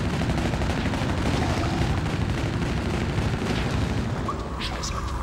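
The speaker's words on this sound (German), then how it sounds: "Ansonsten verteilen sie die Bleisalven beidhändig" Dense, continuous dual-wielded gunfire and booming blasts fill the action video game Shadow Man 2econd Coming, loud and sustained throughout, with a voice speaking over the shooting.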